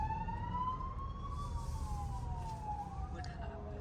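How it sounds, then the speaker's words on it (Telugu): Two or three fire engines pass through traffic with wailing sirens that rise and fall and overlap, sounding loud over a constant low road rumble. "ఫైర్ ఇంజిన్లు అయితే 2-3 వెళ్ళినాయి"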